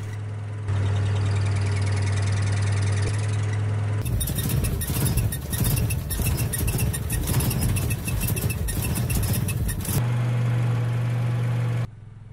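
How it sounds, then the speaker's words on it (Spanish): A car's faulty clutch release bearing makes a loud grinding whir over the steady engine idle while the clutch pedal is pressed, then it stops and the plain idle returns. "Este es un ejemplo claro de un problema en el collarín."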